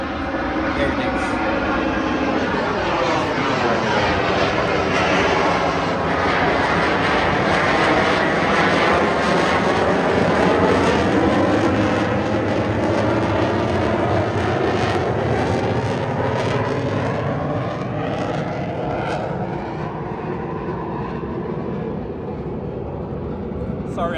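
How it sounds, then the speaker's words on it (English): A military jet passes overhead near an Air Force base, a loud rumbling roar with a sweeping pitch that builds and lingers for over twenty seconds, heard outdoors beside a parked 2006 Honda Civic Hybrid. "That's a military jet."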